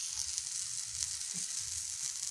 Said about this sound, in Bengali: আমি আরও একটা ভেজে নিচ্ছি।